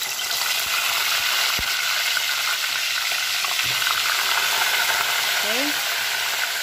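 Oil frying steadily in a pan while cooking ginataang tilapia, a continuous broadband sizzle and hiss throughout with a couple of faint knocks, no talking.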